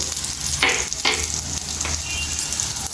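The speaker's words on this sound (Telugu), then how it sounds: "చూడండి, చక్కగా వేగిపోయినాయి కదా పచ్చిమిర్చి" Green chillies frying in a pan, a close, steady sizzle and crackle with a few louder bursts as they are stirred.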